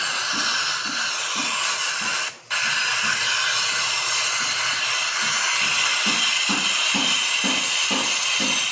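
A running helicopter engine produces a loud, steady turbine hiss layered over rhythmic low thumping pulses from the rotor, with one brief dip before the noise continues unchanged.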